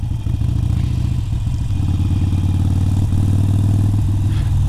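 A Harley-Davidson Iron 883 rides slowly in first gear along Route 66. Its loud, close engine putters with a steady low throb and some mechanical clatter under wind noise.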